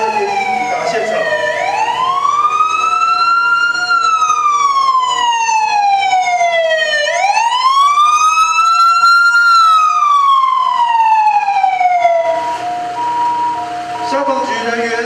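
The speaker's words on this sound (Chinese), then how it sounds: "离台电协和发电厂较近的中山分队消防车及救护车也已抵达现场。" Wailing sirens of a fire engine and an ambulance arriving at a power plant during an air-pollution emergency drill, loud and close, sweeping up and down in long repeated cycles.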